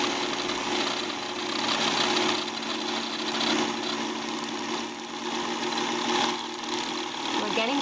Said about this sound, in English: The machine is going to let me know when my bobbin is fully wound with thread.